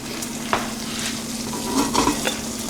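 A grilled cheese sandwich cooking in a hot pan gives a constant close sizzle with a low steady hum beneath, a few clicks and scrapes of a utensil rising over it, with no voices.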